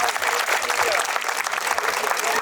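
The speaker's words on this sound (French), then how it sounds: "j'aimerais que vous applaudissiez vos parents" A crowd at a beginners' national tournament applauds parents in a thick, continuous wash of clapping from many hands, loud and steady throughout.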